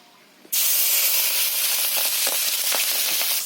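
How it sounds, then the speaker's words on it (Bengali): Puti fish, rubbed with salt and turmeric, drop into hot white oil with a sudden loud sizzle that continues as a strong steady hiss with small popping bursts, close up. "তেলটা গরম হয়ে গেছে এতে নুন হলুদ মাখিয়ে রাখা পুঁটি মাছ দিয়ে দিতে হবে"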